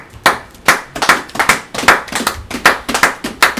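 A congregation applauds at a religious Sabbath service, a dense run of sharp hand claps with irregular overlapping bursts, loud and close, with no talk over it.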